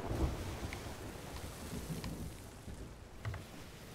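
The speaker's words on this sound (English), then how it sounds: "we are going right back into the storm" Stormy sea in Sea of Thieves: steady broadband rain and wind wash with a deep low rumble throughout, a few faint creaks and splashes rising briefly above it, with no talking.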